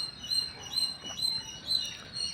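Jungle babblers, grey-legged sparrow-like birds, chirp while pecking at wasp nests: a series of short, bright repeated chirps roughly every half second, fairly close, over a faint outdoor background hiss.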